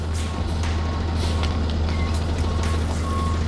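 A tow truck pulls in at a roadside crash scene, its deep engine rumble steady and loud, with faint reversing beeps and brief hissing bursts over it; no talking.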